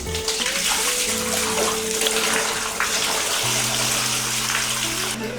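Running water rinsing large format film during developing, a steady loud gush with a low tonal hum under it, continuous and close throughout, with no talk.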